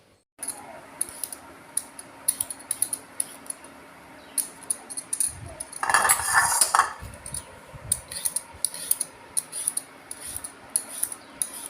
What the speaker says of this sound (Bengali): আলু ছাড়াচ্ছে এখন।